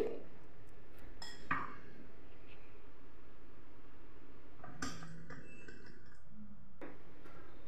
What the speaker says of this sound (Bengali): বড়াগুলোকে একটা প্লেটের মধ্যে হালকা করে সাজিয়ে নিচ্ছি